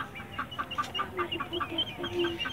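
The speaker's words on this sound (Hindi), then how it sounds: "देखे ये हमारे बड़े मुर्गे हैं, इनके ये बच्चे हैं।" Chickens, large roosters and their chicks, cluck softly nearby in a loose, repeated pattern of short calls over a faint background hum.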